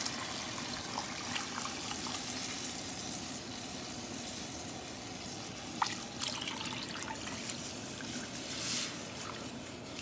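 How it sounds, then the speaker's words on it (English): Black bean cooking water is poured into cornmeal, a faint steady trickle and splash of liquid that carries on for several seconds beneath a low background hum, with no voices. "And now I'm gonna be adding my water. This is the water from the black bean that it was boiled in,"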